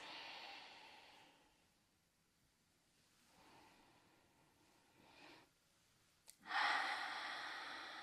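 Slow, audible breaths taken while holding a yoga pose on a mat, several long inhales and exhales spaced a few seconds apart, close and soft, ending with a stronger breath.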